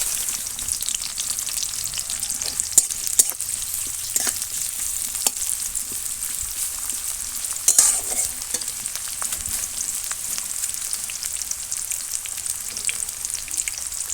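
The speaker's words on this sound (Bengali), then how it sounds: "এর মধ্যে তেলটার মধ্যে পেঁয়াজ কুচিটা দিয়ে দিলাম" Chopped onion sizzling in hot oil in a pan, a steady crackling hiss throughout with occasional stirring scrapes and pops, close by and uninterrupted by voices.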